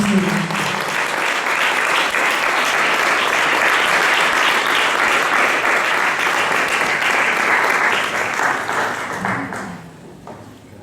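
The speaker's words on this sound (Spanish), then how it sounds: "Denle un fuerte aplauso a ese Rey de Reyes" A church congregation at a Sunday service applauds in a long, loud, sustained wave of clapping that fades out near the end, with a voice briefly heard at the start and close.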